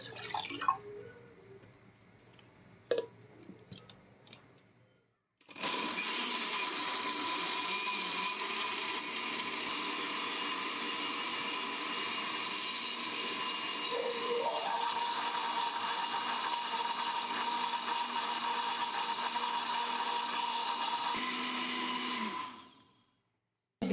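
Blender grinding carrots with water, a steady loud whir running for about eighteen seconds after a few soft clinks, then cutting off abruptly.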